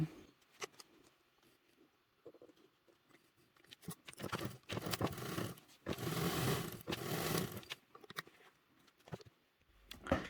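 A sewing machine runs in short bursts, stitching and backstitching the seam of a fabric drawstring bag, with a louder sustained stretch in the middle and quiet pauses between runs.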